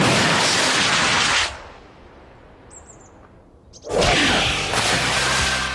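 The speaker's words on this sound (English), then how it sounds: "The rocket launched itself right up through the clouds in less than 1 second flat." A rocket launches on a TV science show with a loud, broadband roaring blast that cuts off abruptly, then near silence, before a second loud burst of noise returns.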